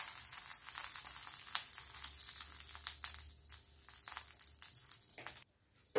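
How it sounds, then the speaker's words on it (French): Sugar melting into caramel in a pan over medium-low heat for caramel chicken gives a steady, soft crackling sizzle that runs evenly, then drops away briefly near the end. "On va laisser fondre tranquillement notre caramel."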